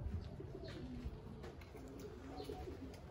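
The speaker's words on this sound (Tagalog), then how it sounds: "Ayan, rumaronda na yung ibang ibon natin." Pigeons cooing softly around a loft, low repeated coos with occasional faint chirps over a steady background hum, fairly continuous and moderately distant.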